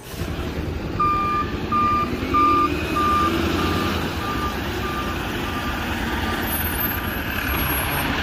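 A toy garbage truck gives steady, evenly spaced reversing beeps, loud and close, repeating through the whole stretch over a constant low background hum with no talk.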